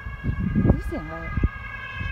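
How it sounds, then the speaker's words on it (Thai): Police car siren heard from an outdoor picnic spot, a tonal wail held steady at moderate distance while people chat close to the microphone. "รถตำรวจ"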